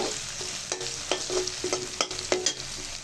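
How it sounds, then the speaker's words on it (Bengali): Sliced onions fry in hot oil in a kadai for chicken biryani, a steady close sizzle broken by repeated scraping strokes of a stirring spoon against the pan. "পেঁয়াজটা বেরেস্তার কালার করে ভেজে নিব।"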